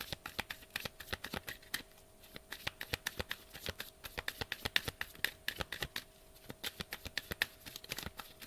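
A deck of tarot cards is shuffled in a quiet, continuous patter of rapid soft card slaps and riffles over several seconds, with no talking.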